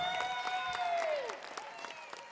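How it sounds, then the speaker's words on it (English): Round of applause from a telethon crowd, a dense patter of clapping underneath a sustained sung or held musical tone that slides downward and fades. "just give yourself a round of applause, everyone back home"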